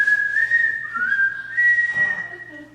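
A person whistles a wavering, sliding tune at a comedy improv show, loud and close, with brief pauses between phrases.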